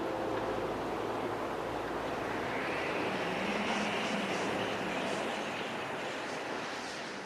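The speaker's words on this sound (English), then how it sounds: "The even sound of the waves lulls the modern explorer to the sweetest of sleep." Steady ocean surf in Lofoten, Norway washes continuously, a broad soft roar that rises slightly and fades toward the end, with no voices.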